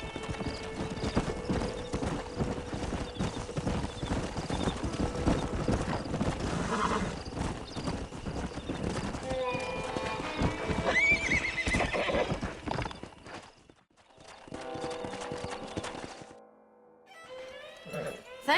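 Horses whinny and neigh over rhythmic clip-clopping hooves in Red Dead Redemption, with a game soundtrack and ambient effects underneath; the sound drops away briefly near the end.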